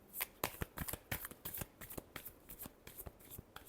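A deck of tarot cards is shuffled by hand, producing a quick run of sharp, close riffling flutters and slaps in an uneven rhythm, with no talking.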